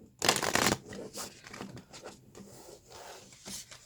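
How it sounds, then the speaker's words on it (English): A deck of tarot cards being shuffled close up, with a loud riffling burst at the start followed by softer rubbing and shuffling sounds. "I am going to shuffle the deck"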